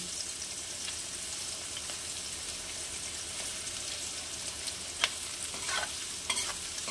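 Vegetables fry in a pan for Bengali khichuri with a steady, even sizzle throughout, quiet and close, broken by a couple of brief stirring clinks near the end.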